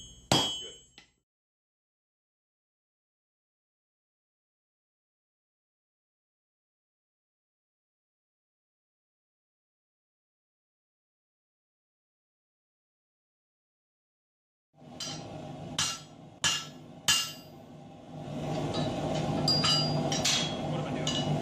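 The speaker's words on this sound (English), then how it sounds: "Look at the exact spot you want to hit with the hammer." Hammer blows on a forging tool set over an anvil, a brief strike at the start, then after a long silence a cluster of sharp metallic hits at a steady rhythm followed by a sustained clattering rumble, close and loud.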